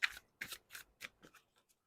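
Several quick, crisp riffles of tarot cards being shuffled close by, in short bursts that fade toward the end, with no talking.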